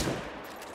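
A single rifle gunshot fired in the hunting video game The Hunter: Call of the Wild, a sharp loud crack at the start that rings out into a short fading tail.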